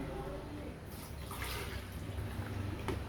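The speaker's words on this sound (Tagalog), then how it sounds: "lagay tayo ng tubig kasi sayang" Water pours steadily into a blender jar with a continuous splashing rush and a faint low hum underneath.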